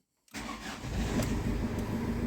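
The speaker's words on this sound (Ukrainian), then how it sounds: "Так, заводимо машину." A Ford Connect car engine starts after a short silence, catching at once and settling into a steady, fairly loud idle up close, with no talking.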